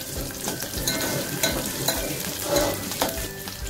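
Green chilies hit hot oil in a home kitchen pan for a festive dish, crackling and sizzling steadily with repeated sharp spatters and stirring scrapes, close and moderately loud.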